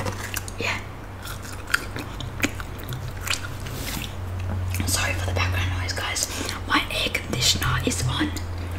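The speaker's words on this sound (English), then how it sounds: "we're gonna be eating some chips with tomato sauce" Close-up chewing of hot chips with tomato sauce, repeated moist bites and crunches scattered irregularly, mixed with soft whispered talk and a low background hum.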